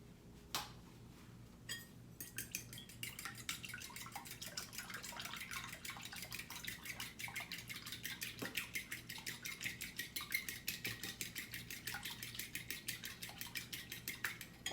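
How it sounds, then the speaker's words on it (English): Egg mixed with milk and seasoning is whisked in a bowl, a quick, steady run of light, close clicking and tapping strokes after a brief clatter at the start. "and then I'm going to scramble it"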